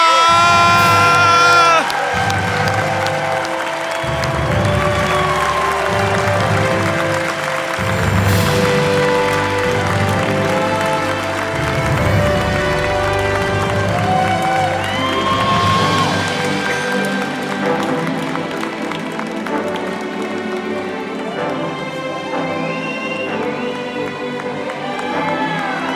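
Audience at the 2026 James Beard Restaurant and Chef Awards erupting in loud cheers, whoops and applause for a winner, a dense sustained roar of many voices that stays strong throughout.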